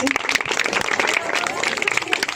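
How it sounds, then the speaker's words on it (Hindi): Dense, continuous clapping from a congregation at a Christian wedding ceremony, loud and close, with voices calling out among the claps. "बजाइए ताली"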